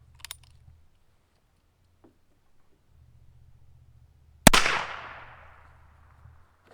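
A single sharp .22 gunshot from a Ruger Wrangler revolver with a 4.6-inch barrel firing Remington Thunderbolt ammunition, a loud crack with a decaying echo tail, set between quiet stretches with a low background hum.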